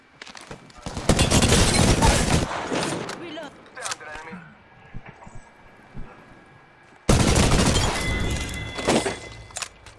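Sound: gunfire in a video game, Apex Legends

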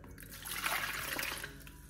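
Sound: water poured into a bowl

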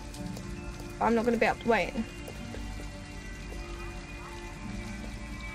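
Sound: rain falling, from the video game Detroit: Become Human

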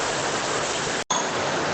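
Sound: heavy rain

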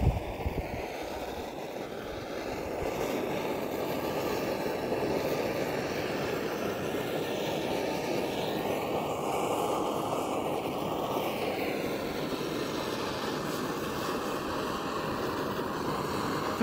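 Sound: MAP gas torch burning off paint on headers

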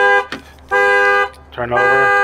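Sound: car alarm going off on a 2003 Land Rover Freelander

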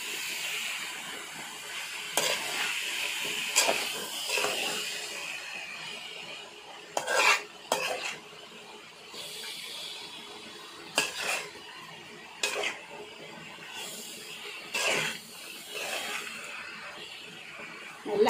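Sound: stirring egg and cabbage stir-fry in pan

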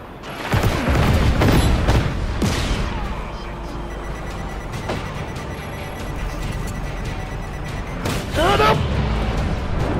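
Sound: missile explosion in Just Cause 3 video game

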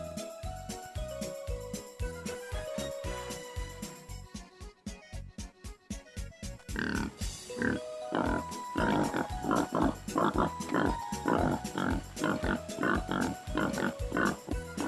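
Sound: pig and piglets grunting

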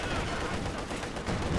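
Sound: tank gunfire shooting at a cache, from a video game

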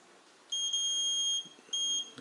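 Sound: multimeter continuity beep while testing a lawn tractor relay

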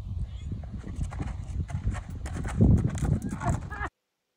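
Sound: mule hooves stepping into horse trailer

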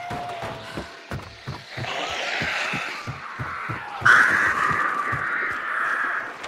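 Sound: crows cawing in video game Hunt: Showdown

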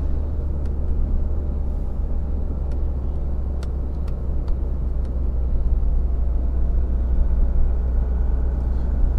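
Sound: Tata Harrier car driving on cruise control

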